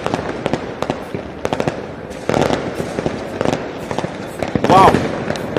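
A box of fireworks goes off on Tet New Year's Eve 2021, with rapid crackling pops and heavier bangs near and far, and voices talking underneath.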